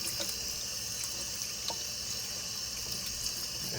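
Salmon is rinsed under a running kitchen tap. A steady, soft stream of water splashes with small irregular drips throughout, close by.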